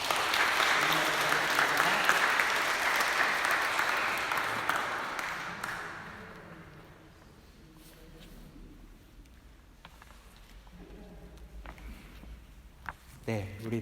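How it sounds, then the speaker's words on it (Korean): A congregation at a Sunday church service breaks into sustained applause that fills the room for several seconds and then fades, after which a voice speaks over quiet room sound. "다시 한번 박수로 기도하겠습니다."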